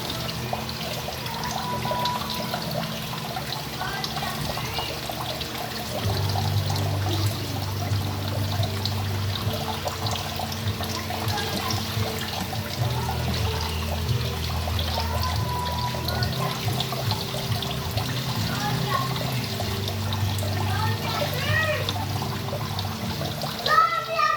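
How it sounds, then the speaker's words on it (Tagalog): Food rinsed under a running kitchen tap before cutting chicken for lollipops: continuous splashing, trickling water throughout, close, with a voice talking over it. "Gusto ko lang hugasan ulit."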